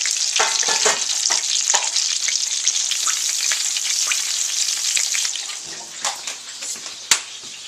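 Eggplant slices frying in hot oil give a steady, dense sizzle close by, with a few soft crackles and a sharper pop near the end.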